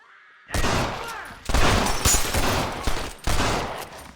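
Video game gunfire from Red Dead Redemption on PC rings out in three loud, dense volleys of rapid shots with short pauses between them.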